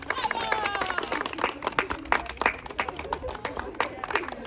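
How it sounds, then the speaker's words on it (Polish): Audience clapping for a child dancing at a children's choir event, a steady run of close, sharp claps that continues throughout with some voices underneath. "Brawa dla Kuby."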